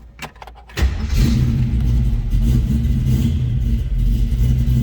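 A 1969 AMC AMX engine cranks briefly, then catches and settles into a steady, loud idle with a low rumble that continues to the end.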